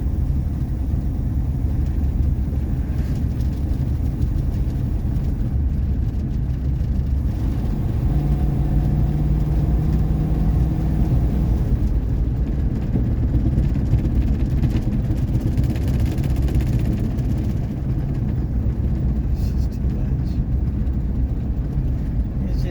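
A 1959 Ford Fairlane 500 engine droning steadily while driving, with low rumble and vibration throughout, close and constant, with faint talk at times.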